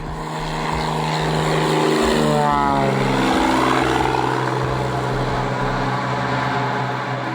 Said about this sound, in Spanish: el vuelo 508 de la aerolínea LANSA se encontraba en pleno despegue